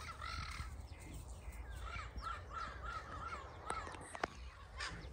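Parrot calling outdoors in a natural setting, a run of harsh repeated squawks over a steady background hum, moderately distant and faint.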